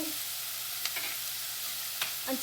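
Onions sautéing in a pan give off a steady, faint sizzle, broken by a couple of soft clicks and scrapes from stirring, with no voices.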